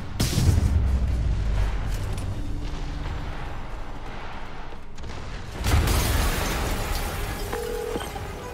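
A deep, rumbling explosion booms in Marvel's Spider-Man Remastered, then a second low blast hits around the midpoint, with sustained heavy roar and debris noise filling the whole stretch; no speech.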